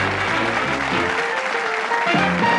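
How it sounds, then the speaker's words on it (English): TV game show studio audience applauding on Bullseye: dense, steady clapping from a large crowd, loud and continuous throughout, with some musical notes playing underneath. "Give them a round of applause."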